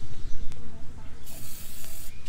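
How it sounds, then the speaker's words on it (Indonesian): Black spray paint hisses from an aerosol can onto a handmade hanging plant pot, loud close bursts of spraying with a sharp start midway, while children and an adult talk nearby. "di bawahnya kita pakai warna hitam. Oke, terus semprot."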